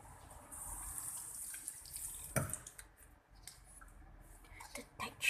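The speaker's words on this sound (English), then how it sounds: "I'm gonna wash my hand for a while." Hands are washed under a running tap after handling slime, giving a soft, uneven splashing and trickling of water with a few sharper wet clicks and gurgles at a fairly low level.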